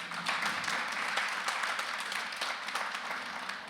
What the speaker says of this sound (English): So an applause already to everybody